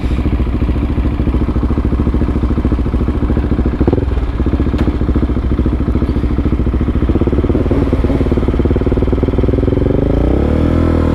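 A Honda CBR 600RR sport motorcycle riding curvy Wisconsin backroads, its engine a loud, continuous close-up drone with wind rush, the pitch rising toward the end as the rider accelerates; no talking.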